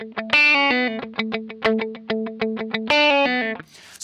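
Electric lead guitar runs a quick single-note line back up a scale, bright and effected with slight drive: a rapid string of clipped plucked notes, a couple of longer ringing ones, ending in a faint noisy tail.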